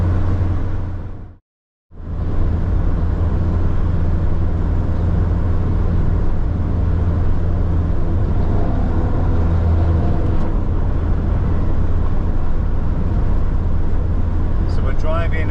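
Car driving north up the Brand Highway in Western Australia, a steady, loud engine and road rumble filling the cabin, briefly cutting out near the start before resuming unbroken.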